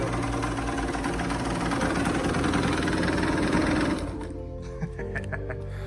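A 2002 Suzuki RM85 dirt bike engine idles steadily up close, a dense buzzing drone that holds for several seconds before dropping to a softer, lower idle with a few faint knocks.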